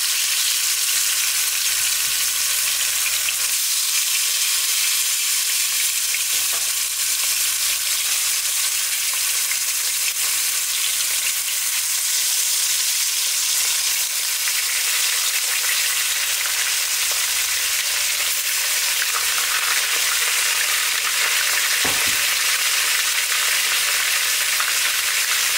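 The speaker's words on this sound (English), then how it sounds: "we're putting the fish in. The oil is hot now." Hilsha fish frying in hot oil, a loud, dense, steady sizzle and crackle filling the whole stretch up close, with no voices.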